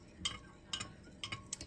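A spoon stirs hot cocoa ingredients into milk in a mug, giving soft scraping swirls punctuated by four light clinks against the side at uneven intervals, close and quiet with no talking.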